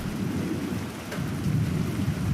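Thunder from a lightning strike used as a sound effect in an animated children's tale, a dense low rumbling roar mixed with rain-like hiss, loud and sustained throughout with no voices.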